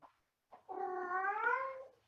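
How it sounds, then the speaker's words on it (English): A pet cat gives a single drawn-out greeting meow, clear and fairly close, preceded by two soft short sounds, in an otherwise quiet room. "there are going to be other sounds, such as my cat greeting us this morning."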